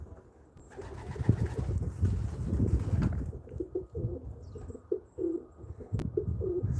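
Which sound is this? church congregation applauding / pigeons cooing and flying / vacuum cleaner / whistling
pigeons cooing and flying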